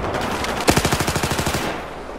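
Gunfire in the video game Battlefield 4 opens with a single loud report, then a fast automatic burst of about a dozen rounds, clear and close.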